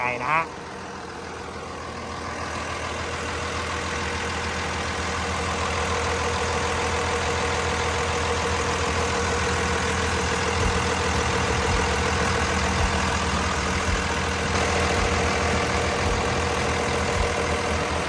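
A Komatsu WA470-7 wheel loader's six-cylinder turbo diesel idles steadily, a close, even drone with a low mechanical rumble that settles after a brief start and holds for the whole stretch.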